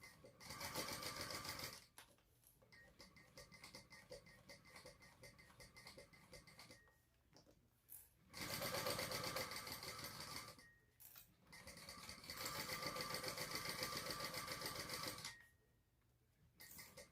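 A sewing machine stitches around the edges of a fabric sling bag, running in several steady whirring bursts separated by short pauses, close and fairly quiet.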